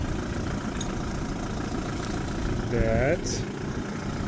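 A vehicle engine idles steadily after being started while stuck deep in the ground, a low continuous rumble under brief speech and a short whining sound near the end.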